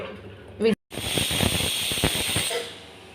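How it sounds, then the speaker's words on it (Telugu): A loud, sustained steam hiss from a pressure cooker whistle while cooking lentils, cut by a brief pause, then continuing strongly with a voice underneath before fading. "ఇప్పుడు పప్పుకి విజిల్ అయితే వచ్చేసింది."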